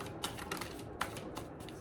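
Tarot cards shuffled by hand in a series of soft riffling bursts roughly every quarter second, close and quiet, with no talking.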